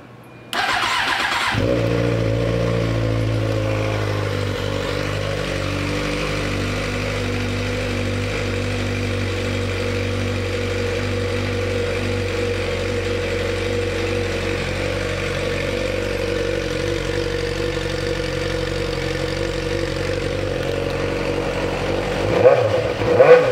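A yellow 2008 Suzuki GSX-R600 sport bike with 23,247 miles fires up after a short crank, then idles steadily and loudly up close before a brief blip near the end.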